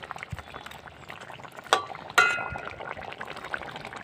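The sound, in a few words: fish added into boiling curry broth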